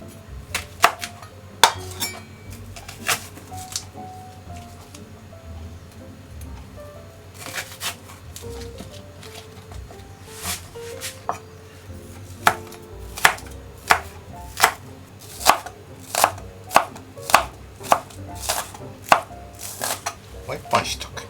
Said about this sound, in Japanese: ネギときゅうりとニラを切っていきます。